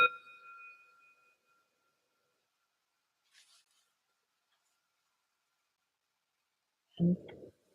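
A meditation bell rings once at the start, its tone sustaining and slowly fading into near silence, followed later by a brief low thump.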